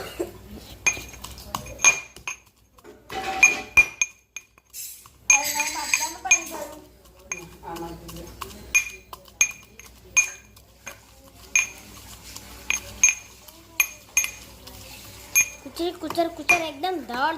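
Garlic is pounded into chutney in a mortar, with sharp clinking knocks repeating at a steady pace, close and bright, alongside intermittent talking voices.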